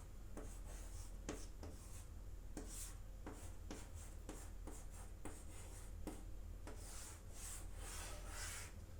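Chalk or marker strokes on a board in a trigonometry classroom, a long run of short, rhythmic scratching strokes, faint and steady over a low background hum.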